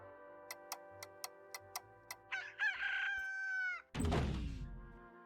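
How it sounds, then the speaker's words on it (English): A rooster crows in the farming video game Slime Rancher, a loud, rising cock-a-doodle-doo with no voices over it. A short run of sharp ticks leads in, and a burst of broadband noise follows. "If we didn't have roostros on the farm, would we still get a morning crow?"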